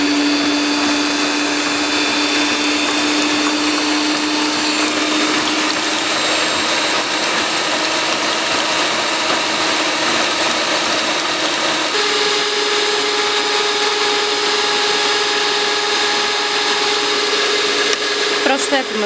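An electric mixer beating honey, eggs and brown sugar, a loud steady high-pitched motor whine with a grinding texture and a slight pitch drop partway through, running continuously.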